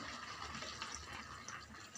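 Water is poured into a pot of cooking Maggi noodles, a faint, steady liquid splash and trickle lasting about two seconds with no talking over it.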